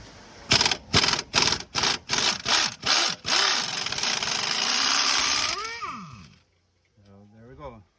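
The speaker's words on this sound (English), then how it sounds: "2-inch extension for my impact air hammer." Rapid bursts of an air impact hammer with a 2-inch extension removing a bolt from a 2007-2014 GMC Yukon XL Denali front hub, about eight sharp rattling blasts, then a sustained run before it stops, followed by a brief voice.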